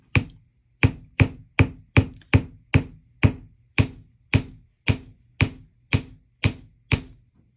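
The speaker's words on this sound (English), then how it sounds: "hammer it a little bit." A hammer taps on wire in a mixed-media craft session: about fourteen sharp, evenly spaced metallic strikes, close and clear, each followed by brief quiet, with no talking.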